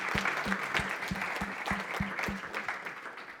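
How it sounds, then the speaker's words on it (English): An audience at a data visualisation talk gives the speakers a round of applause, steady mid-level clapping from a roomful of people with a few sharper hand claps pulsing through. "So I thought we should give the speakers a big round of applause before we go off."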